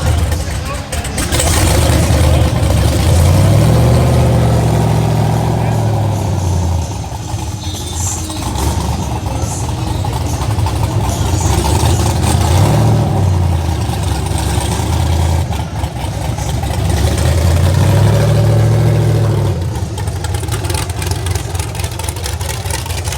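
An off-road bug with a Rotax engine runs close by, its engine rising and falling in repeated revving swells over a rough idle, with people talking nearby.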